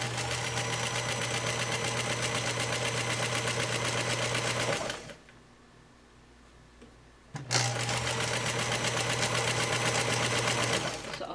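A sewing machine stitches quilt rows together in long runs, a loud, fast, steady mechanical hum and clatter close by. It stops for about two seconds of near quiet, then starts up again at full speed.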